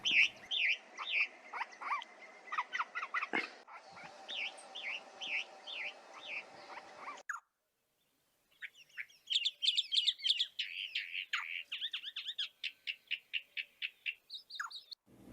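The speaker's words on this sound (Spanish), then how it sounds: "Lentamente se iban sumando otras calandrias y más aves." Calandrias, or mockingbirds, sing with other birds in the Lihué Calel outdoors: bright, varied chirps and whistled phrases repeat in quick series, then a short quiet gap before another burst of rapid, rhythmic notes.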